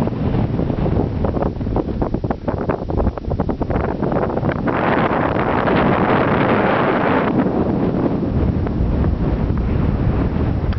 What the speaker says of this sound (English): Col Artil in windy weather.